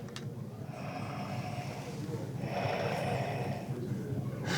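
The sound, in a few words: LEGO Darth Vader smart toy breathing sound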